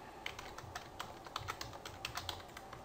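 Rapid typing on a computer keyboard while entering FTP connection details, a steady run of light, close key clicks with a few louder taps and no speech.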